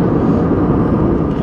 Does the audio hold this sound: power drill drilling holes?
no